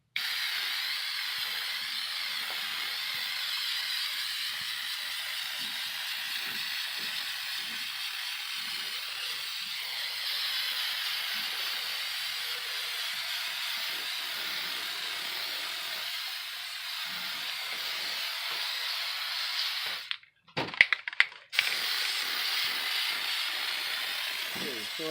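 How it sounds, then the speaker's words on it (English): Plasti Dip sprayed from an aerosol can onto a homemade cosplay tail: a long, steady, close hiss that runs almost unbroken, with a brief pause and some clatter near the end. "now I'm going to begin to plasti dip my creation"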